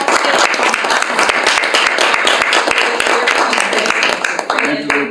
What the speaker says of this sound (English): Please give a round of applause to the club officers who have served the club in the current Toastmasters year